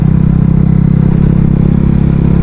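KTM RC 390 motorcycle engine running hard during a gear shift, a loud, close, steady buzzing drone with fast pulsing firing rhythm throughout.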